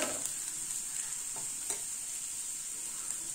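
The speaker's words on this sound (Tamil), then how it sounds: "ஒரு துண்டு இஞ்சி இந்த மாதிரி குட்டி குட்டியா கட் பண்ணி போட்டுக்கோங்க." Small chopped pieces of ginger fry in oil in a pan for lemon rice, giving a steady, close sizzling hiss with faint stirring scrapes and no voices.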